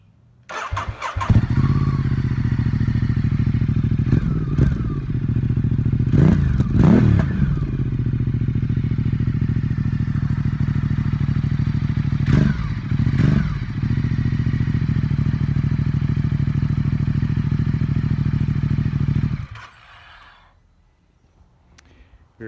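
A motorcycle fitted with a new Pikes Peak exhaust pipe cranks and fires up, then idles loudly and steadily with a few sharp revs before the engine cuts off near the end.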